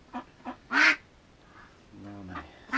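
Tambov decoy ducks quack in short bursts: two soft calls, then a loud harsh quack, a lower drawn-out call and another sharp quack near the end, close by with no talk.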